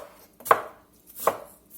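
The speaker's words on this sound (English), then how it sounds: "I got about 1/4 of an onion here. I'm just going to chop this up a little bit" A knife chopping a quarter of an onion on a cutting board for marinara sauce, two sharp, close chops about three-quarters of a second apart with quiet pauses between.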